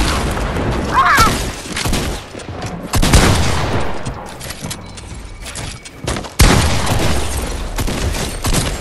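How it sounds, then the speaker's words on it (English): Gunfire crackles in a battle royale video game, coming as sharp bursts and single loud shots with some booms between them, close and loud against the game's background sound. "You're shooting!"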